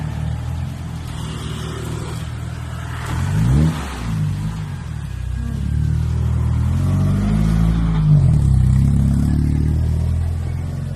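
Cars passing on a street during a dog walk, engines rising and falling as vehicles go by close, with a revving surge and steady traffic rumble throughout.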